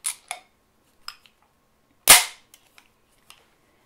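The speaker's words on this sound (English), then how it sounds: "I'm going to have to do some dry firing in order to get you in order to measure the trigger pull." A Nighthawk 1911 pistol is dry fired on a snap cap, giving one sharp, loud metallic snap near the middle, with faint small clicks of the action around it and no talking.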